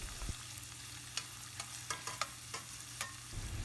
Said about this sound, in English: Just cook the onion for 2 minutes and then stir it very well.